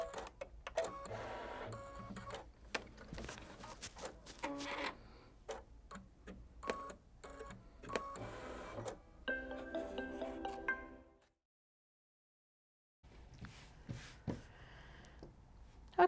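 A Kimberbell embroidery machine stitches crosshairs in white thread onto stabilizer, a steady rapid mechanical ticking and whirring that runs for about eleven seconds, pauses briefly, then resumes.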